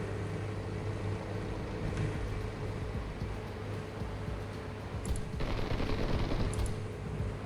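Aircraft guns fire in long, rapid bursts during a War Thunder air battle, a dense continuous rattle mixed with engine drone, growing louder near the end.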